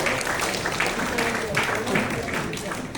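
An audience at a ceremony claps steadily to honour a guest, a dense, even wash of applause lasting throughout with a voice over it.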